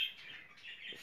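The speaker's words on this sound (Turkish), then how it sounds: "Şöyle papağan yavrumuzu alalım şöyle." A parrot chick gives a thin, high chirping call, faint and continuous over a brief moment, heard on its own without voices.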